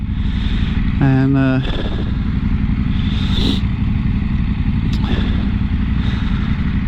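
A KTM 790 Adventure R motorcycle rides along on a crisp, sunny day, its engine a steady droning rumble throughout, with a rider's brief voice over it.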